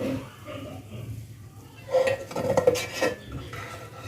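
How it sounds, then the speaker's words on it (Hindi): Makhandi halwa is dished out of the pan, with a brief cluster of clinks and scraping spoon-on-metal sounds in the middle, close and moderate, set within a quiet room. "अब हम चूल्हा कर देंगे बंद और इसे करते हैं डिश आउट।"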